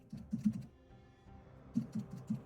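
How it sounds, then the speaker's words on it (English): Computer keyboard typing in two short bursts of quick clicky keystrokes separated by a pause, close-up and fairly quiet. "Here's some keyboard ASMR, I guess."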